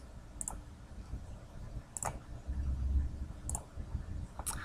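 Mouse clicks while placing leader points in CAD drafting software, four sharp, faint ticks spaced a second or so apart over a low hum of room noise.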